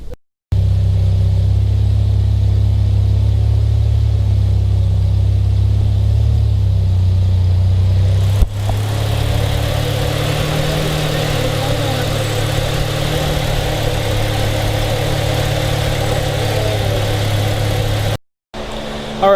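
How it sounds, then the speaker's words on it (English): A 1988 Mazda RX7 FC3S with its rotary engine idles loud and close with a steady low drone, then the tone shifts and roughens slightly as it keeps running toward temperature, cutting off briefly near the end. "we got to let the car start up and get to temp"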